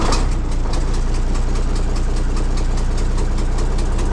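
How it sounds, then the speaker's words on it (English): An off-road haul truck's heavy diesel engine idles close by with an exhaust leak, a loud, steady low rumble with a rapid ticking pulse running through it. "You can hear that exhaust leak in this one pretty good."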